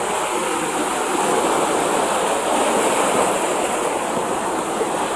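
Large ocean waves churning along a seawall, a dense, unbroken wash of surf noise that holds loud and steady throughout, close by and without any talking.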